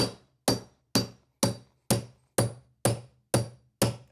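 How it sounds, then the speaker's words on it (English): Nine sharp hammer blows land at a steady, even pace about half a second apart while installing a stair runner, each ringing briefly before fading, close and clear with no talking. "Let's take our hammer"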